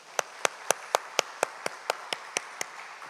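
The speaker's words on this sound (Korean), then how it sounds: "우리 다시 한번 박수 해주시기 바랍니다." Slow, evenly spaced claps ring out in a church congregation during a worship service, about a dozen sharp hand claps in a steady rhythm, fairly quiet and with no talk over them.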